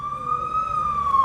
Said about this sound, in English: Ambulance. ambulance. Probably.